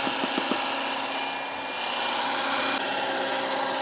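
An electric mixer beats marble cake batter on medium speed, a steady, moderately loud motor whir with a few faint clicks near the start.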